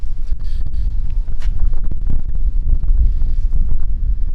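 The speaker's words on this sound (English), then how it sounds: "It's windy." Wind buffets the microphone in low, rumbling gusts that rise and fall unevenly, loud and close, with no talking, outdoors during grain moving.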